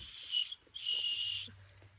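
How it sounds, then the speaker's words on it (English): A weak whistle built into a backpack strap is blown twice, two thin, airy, high tones separated by a short gap, fairly faint over a quiet outdoor background. "you do have a whistle on your pack, but it's actually not very good."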